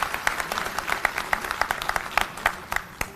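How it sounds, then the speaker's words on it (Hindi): A crowd at a political rally in Maharashtra applauds steadily, with dense clapping and sharp individual claps standing out, heard at a distance through a hall or open-air sound, without speech. "तो एक बार जोरदार तालियां हमारे सभी युवा और बुजुर्ग"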